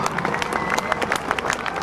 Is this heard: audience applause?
yes